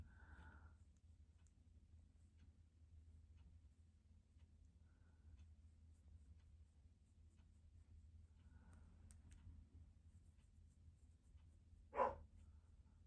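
A dog shut inside a house gives a few faint, muffled barks, widely spaced, over a quiet room hum, with one sharper sound near the end.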